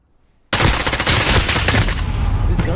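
Automatic gunfire in Call of Duty: Modern Warfare breaks out of near silence, a loud, rapid, sustained burst of shots that keeps going to the end.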